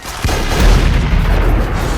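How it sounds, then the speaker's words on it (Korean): A heavy, booming gunshot from a pistol in a Stephen King film, a deep low blast with a long rumbling tail that fills the clip, loud and close. "대포와 같은 위력의 권총탄"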